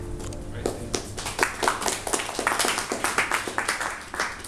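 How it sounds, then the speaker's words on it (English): An event audience breaks into applause, a dense stretch of scattered clapping from a room full of people, fairly close and steady throughout with a voice speaking underneath. "Let's give big applause for Daryl and Mike."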